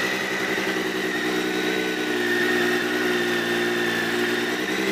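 A 2013 Triumph 675R BSB Supersport race motorcycle idles steadily at close range, its engine holding a constant, even drone with no revving or talk for the whole stretch.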